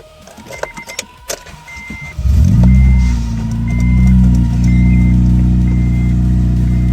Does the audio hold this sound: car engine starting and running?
yes